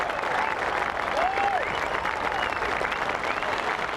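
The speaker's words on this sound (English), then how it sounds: "all of that cheering" A golf gallery at the Open cheers and applauds a birdie by Woods, with steady, dense clapping from a large crowd and scattered whoops and whistles rising above it.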